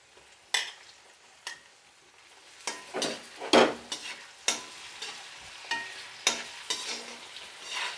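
Round-sliced ginger added to garlic already frying in oil for beef pickle: a low, steady sizzle punctuated by irregular metal stirring scrapes and knocks against the pan, close and quiet, with no talking.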